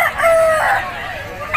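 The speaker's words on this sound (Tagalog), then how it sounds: "Ito mga tol, yung mga dala ng manok ni Boss Eric." A rooster crows loudly and close by at a busy outdoor pet market, one long cock-a-doodle-doo call rising and falling over market bustle, with a second crow beginning at the end.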